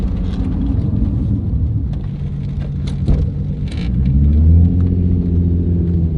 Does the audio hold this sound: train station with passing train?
no